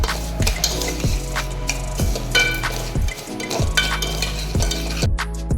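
Sugar is stirred into roasted vermicelli in a pan, with a spoon scraping and clinking against the metal in a steady rhythm of repeated strokes, close and fairly loud, alongside a faint sizzle.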